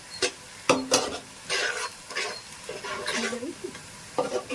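Sliced onions frying in oil in a pan for mutton biryani, turned until golden brown; close, intermittent scraping stirs and clinks over a soft, steady sizzle.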